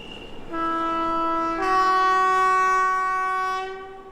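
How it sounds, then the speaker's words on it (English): A loud, sustained train horn sounds alone, a steady chord with a brief shift partway through, as a train approaches beside a loch in Scotland. "after all the waiting, here comes the train"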